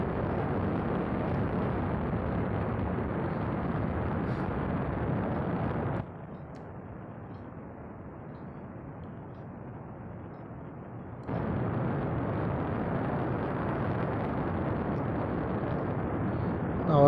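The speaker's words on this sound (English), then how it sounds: "Our rocket working fine" A rocket engine in Space Flight Simulator roars as a steady, dense broadband rumble, dropping to a quieter, duller level for several seconds before returning at full strength.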